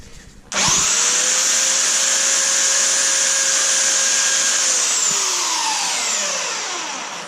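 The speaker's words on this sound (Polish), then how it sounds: "dlatego ja dociąłem troszkę większe, a teraz je szlifuję, żeby one nie odstawały" A power sander smoothing the edges of cut panels during a renovation, starting abruptly and running as a loud, steady high whine for several seconds before slowly winding down, with no talking.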